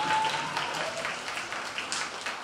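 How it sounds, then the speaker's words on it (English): Audience at a high school symphony orchestra's young people's concert applauds steadily, a dense wash of clapping that holds at even volume throughout with no speech over it. "Let's have a round of applause for our audience."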